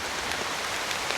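Rain falls steadily outdoors at night in coastal Konkan, a soft, even hiss of drops with no other sound over it.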